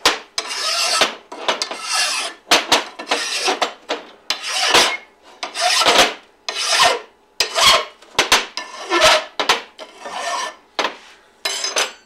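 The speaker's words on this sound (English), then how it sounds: "I'm just going to use a regular file and we're going to clean up the area where we're going to be welding" A regular hand file rasps away rust from metal being prepared for welding, in rough back-and-forth strokes with short pauses between them, close and fairly loud with no voices.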